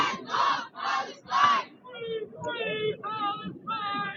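Protesters at a pro-Palestine rally chant in loud rhythmic bursts, repeated shouted phrases rising and falling, with several voices together and close by.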